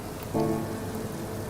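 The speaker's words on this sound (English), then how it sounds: "It's starting to rain," Rain falling in a racing video game, a steady hiss of rainfall on a surface with a brief tonal engine-like swell early on, moderate and continuous without any voice.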